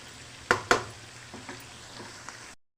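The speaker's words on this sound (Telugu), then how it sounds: "ఆల్మోస్ట్ ఫ్రై అయిందండి" Bitter gourd pieces frying in a pan, a soft steady sizzle broken by two sharp clatters early on and a few lighter knocks.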